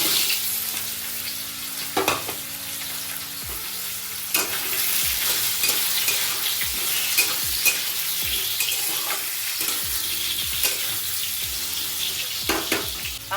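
Mango chutney sizzles and fries steadily in a wok while a spatula stirs and scrapes through it in repeated strokes, with occasional sharper knocks against the pan and no talking.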